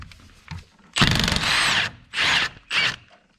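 A wrench loosening a nut on a magnetic front shock absorber from a 2015-2018 GM vehicle, heard as three loud, close ratcheting bursts separated by short pauses, with faint handling noise before them.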